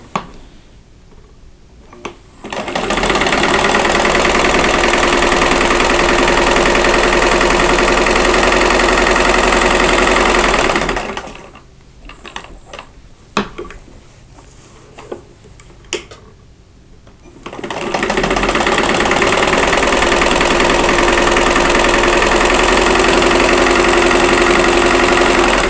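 A sewing machine stitches a quilt block for half square triangles, sewing a quarter inch from a drawn line. There are two long, steady, loud runs of stitching with a quieter pause between them that holds a few clicks and handling noises.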